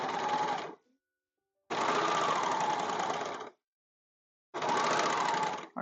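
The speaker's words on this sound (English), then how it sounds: "I've never gotten that lucky with the serger before" Serger stitching a single layer of scrap fabric for a raglan top: three loud, steady bursts of rapid mechanical whirring, each lasting one to two seconds, separated by short pauses of silence.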